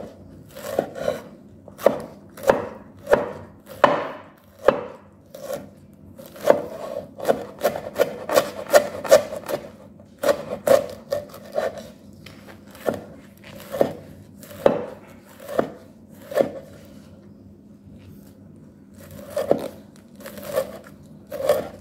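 Leaves for a Jaffna leaf curry chopped with a knife on a board, sharp regular thuds repeating at roughly one-second intervals with brief pauses, close and clear with no talking.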